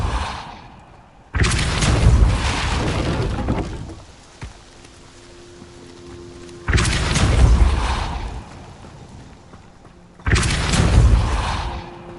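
Depulso spell being cast in the Hogwarts Legacy video game, three heavy booming blasts a few seconds apart, each a loud, broad rumble that lingers briefly before fading to quiet.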